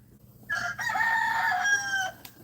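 A rooster in a backyard chicken coop gives one clear, close crow lasting under two seconds, with no talk over it.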